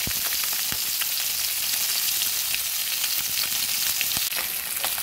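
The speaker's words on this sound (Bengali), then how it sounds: "এই মাছগুলো ভাজা হয়ে গেছে" Pieces of katla fish fry in a small amount of oil, giving a steady, close hiss and sizzle with scattered small pops and crackles throughout, and no voices.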